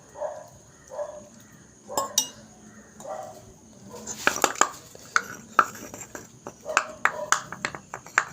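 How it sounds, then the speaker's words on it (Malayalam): Ingredients for a homemade organic pesticide are crushed with a little water, giving a run of close, sharp clinks and knocks in the second half, after a stretch of talking. "ഇതിലേക്ക് ഇച്ചിരി വെള്ളവും കൂടി ഒന്ന് ഒഴിച്ചു കൊടുത്ത് നമുക്ക് ചതച്ചെടുക്കാം"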